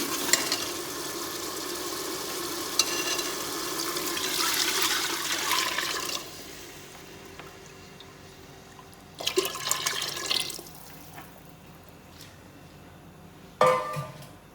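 Buttermilk and gram flour batter pours into a hot tempering in a pan for Punjabi kadhi pakora, a steady liquid rush with sizzle for several seconds, then quieter stirring and brief splashing bursts toward the end.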